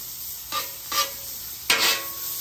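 Garlic, green onion whites and diced onions hitting a hot hibachi griddle in three separate bursts of sizzling, each louder crackle fading back to a steady hiss, close and alone with no talk.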